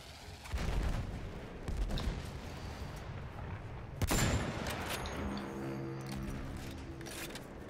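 Gunfire in a video game: several muffled bursts of shots and booms at moderate level, clustered around the start and middle, with a faint ringing tail afterward.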